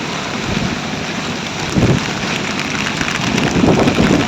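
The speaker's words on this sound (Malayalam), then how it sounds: "ഇപ്പോഴും നല്ല കാറ്റും ശക്തമായ മഴയൊക്കെ ഉണ്ട്" Strong wind and heavy rain during a storm in Vadakara, a dense continuous roar of rainfall with gusty surges that swell midway and again near the end, loud and close with no voices.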